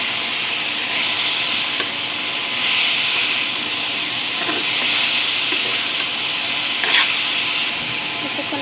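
Banana curry fries in a pan with a steady, loud, close hiss and sizzle, broken by occasional soft stirring scrapes and pops.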